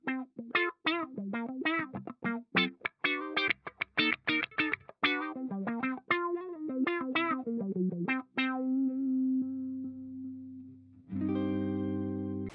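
Electric guitar played through a Boss Katana amp head on its clean channel, a run of picked single notes and chords ringing out clearly, ending in a sustained strummed chord.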